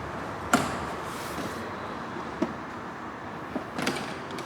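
Ford F-150 rear door panel being pried off, a few sharp plastic clip pops and snaps spaced apart over a steady quiet background, close and moderately loud.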